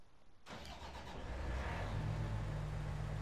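A New Holland forage harvester engine in Farming Simulator 19 cranks and fires up about half a second in, then settles into a loud, steady, warm low rumble with no talking.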